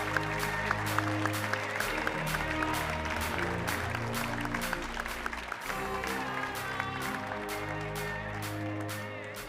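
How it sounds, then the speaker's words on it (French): Audience applause at the Coupe de France de la Boulangerie award ceremony, clapping running throughout beneath loud tonal music with a strong beat, the crowd partly masked by the music. "On peut l'applaudir après un an de travail."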